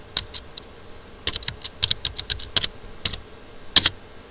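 Keys clatter on a computer keyboard in scattered bursts of quick, close taps with brief pauses between, including presses of the Enter key, with no talking over them.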